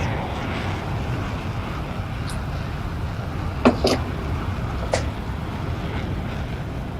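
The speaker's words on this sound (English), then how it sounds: "Man, this is such a good looking plane." A plane's engine drones steadily in a flight video game, a constant low hum with a few brief clicks and faint noises on top.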